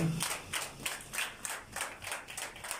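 Congregation at a French-language church service applauding after a call to acclaim the word of God, a steady wash of many hands clapping in rhythmic pulses at moderate distance, with no voices over it.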